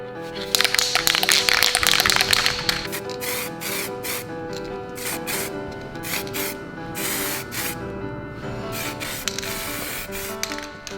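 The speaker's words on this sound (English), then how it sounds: "spray out the adhesion promoter because it is bare plastic in a lot of areas" An aerosol can of adhesion promoter sprays onto bare plastic car body parts, hissing close up in repeated bursts with short pauses between passes.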